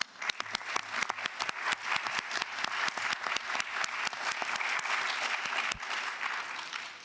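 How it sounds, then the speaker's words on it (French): A conference audience at a UN food systems partnerships event gives sustained applause, a steady patter of many hands clapping at moderate distance, fading near the end. "On vous applaudit."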